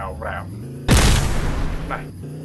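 A single loud burst of firecrackers going off in Dude Theft Wars, a sharp crack followed by a crackling tail lasting over a second, with someone talking just before and after.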